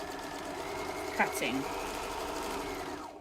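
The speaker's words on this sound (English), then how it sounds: "I leave it attached to the sewing machine so it goes a little bit quicker." A sewing machine stitches elastic into a face mask headband, a steady mechanical whir running through the whole stretch under a voice that talks over it.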